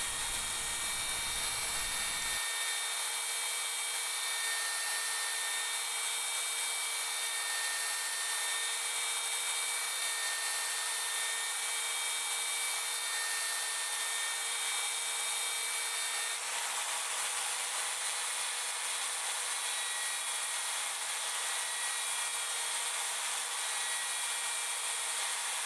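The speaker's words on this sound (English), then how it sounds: "The final grit is 600, and here I sand the bevel first, then the center, and finally the rim." A spinning lathe carries 600-grit sandpaper across the bottom of a turned wood bowl, a steady, even high hiss and whir that runs on alone throughout, shifting slightly in tone partway through.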